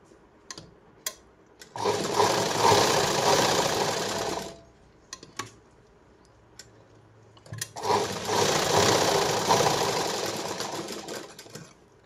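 A sewing machine runs two long bursts of double stitching along a blouse shoulder seam, each several seconds of steady loud whirring, with a short pause and light clicks between them.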